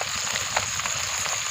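Bata fish frying over a wood fire, a brief, even sizzle of hot oil with faint crackling pops.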